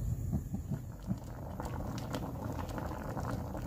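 Vinegar-based liquid boiling in a pan over low heat, a steady close bubbling and soft crackling patter with a few louder pops early on, heard alone without talk.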